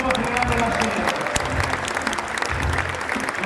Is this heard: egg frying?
no